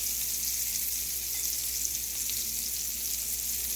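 Wild morel mushrooms fry in a hot skillet, giving a continuous soft hiss and fine crackle, close and even with no talking.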